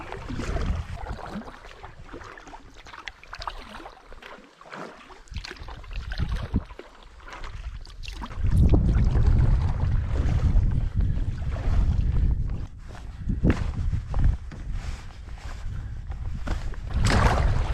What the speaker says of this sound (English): First paddle of the season.